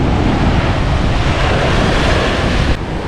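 Breeze off Lake Nicaragua (Lake Cocibolca) buffeting the microphone, a loud continuous rumbling roar with no break, easing slightly near the end.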